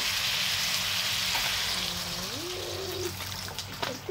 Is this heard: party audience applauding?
no